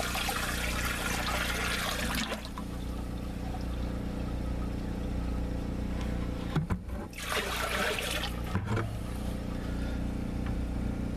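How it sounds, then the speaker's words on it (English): Water from a 5-gallon bucket pouring into a toilet bowl at a cabin with a septic system, a steady rushing splash throughout with two louder surges of gushing water, heard close. "As long as you pour water in that toilet bowl,"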